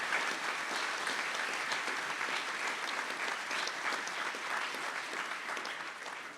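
A large crowd applauds the graduates at the Kent State University at Stark commencement ceremony, dense continuous clapping that holds steady and starts to fade near the end.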